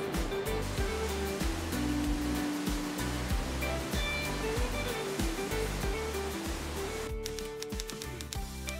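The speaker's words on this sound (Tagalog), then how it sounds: "dinig nga natin ang pagragasa ng tubig sa pinakasikat na waterfalls ng Iligan" Maria Cristina Falls on the Agus River in Iligan roars with a steady, dense rush of falling water, heard continuously with music playing over it.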